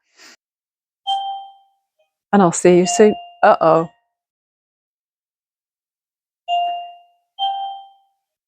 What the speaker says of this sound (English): Can you hear that? That's my doorbell.